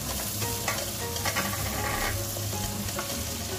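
Minced ginger and onion leaves sizzle steadily in reused frying oil as a pan is stirred, a dense continuous crackle with occasional scraping, close and loud with no talking.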